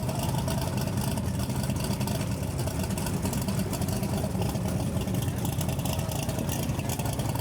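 A 540 cubic inch engine in a 1972 Chevy Camaro at a drag race, a continuous loud, rough engine roar that holds steady throughout, with a crowd or track noise mixed in.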